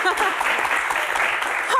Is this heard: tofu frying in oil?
no